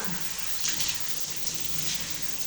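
Running water from a shower splashes steadily while Charlie the dog is being bathed, a continuous close hiss with slight surges and no break.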